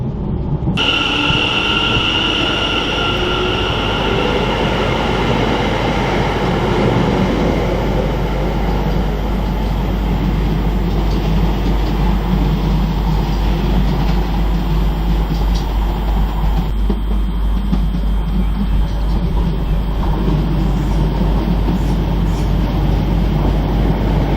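A train runs steadily on the Mayflower Line in Essex towards Dovercourt, with a continuous loud rumble of wheels on rail and a low hum heard from inside the carriage, and no talk.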